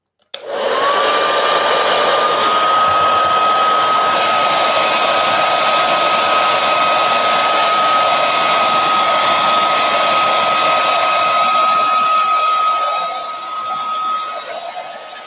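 A hair dryer blowing on an autumn leaf wreath, a loud steady whooshing roar with a thin whine running throughout, close and continuous for about fifteen seconds, wavering slightly near the end.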